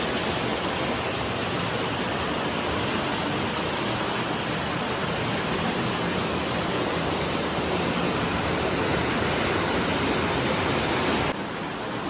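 Water pours steadily around an ancient stone Ganpati shrine at Pokharbav during heavy monsoon rain, giving a continuous, dense rushing wash that stays loud and even throughout with no voices.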